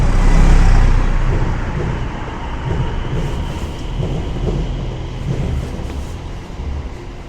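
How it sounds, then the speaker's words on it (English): A train runs along the tracks in Wickford, Essex, a loud rushing rumble that swells early and then settles into a steady roar mixed with nearby road traffic. "That must be the train that probably goes into London."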